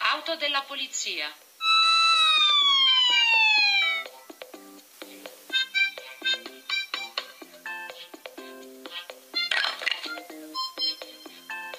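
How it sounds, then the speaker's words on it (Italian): A police car siren wails in a rising and falling electronic tone, loud and close, briefly alone before giving way to other short melodic tones. "Auto della polizia."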